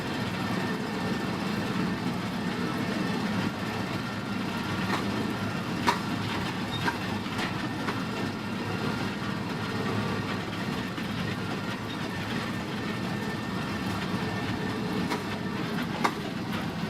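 A bus driven slowly over soil rumbles and rattles in a steady heavy drone, with occasional sharp clanks throughout and no talking.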